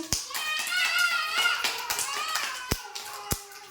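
Young children at an anganwadi clap for a classmate named Nitish, with scattered, uneven hand claps and a few sharper single claps mixed with chattering kids' voices.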